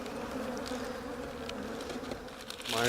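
Honey bees buzz in a steady, close drone over an open hive during an inspection, holding throughout, swelling louder near the end as a bee passes right by.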